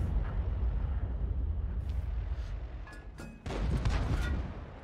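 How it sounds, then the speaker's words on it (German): A heavy tank cannon blast booms out in a video game, amid steady rumbling engine noise, followed by a sharp crack and a burst of loud noise. "Nächster Schuss geht raus."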